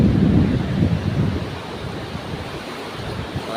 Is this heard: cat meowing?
no